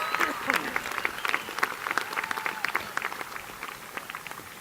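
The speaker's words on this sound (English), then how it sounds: "if we could just give them a big round of applause" Audience at the Sonoma State University afternoon commencement ceremony clapping. Dense, moderately distant applause runs throughout, with scattered sharp claps standing out.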